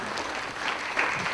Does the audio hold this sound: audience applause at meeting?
yes